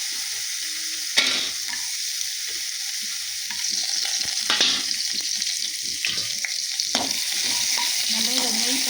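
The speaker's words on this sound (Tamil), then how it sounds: "தேங்காய் நம்ம நெய் போட்டு வறுத்துக்க போகிறோம்." Coconut roasting in ghee in a pan for sweet kozhukattai, stirred with a spatula: a constant hissing sizzle, a few sharp scrapes and knocks, and soft shuffling of the mixture, close and fairly loud, with no speech.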